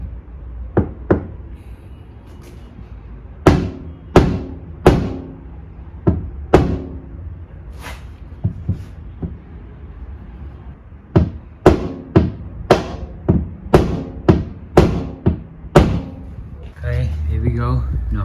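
A hammer knocks a dent out of a Honda Type R body panel, giving sharp metallic blows in irregular bursts, some single and some in quick runs, with someone talking quietly between them.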